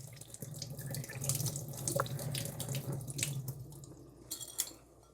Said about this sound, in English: Let me strain off pour the water off.